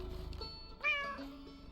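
A cat meows in the ice fishing video game Cast n Chill, one clear, close meow rising out of quiet background music, with no voices.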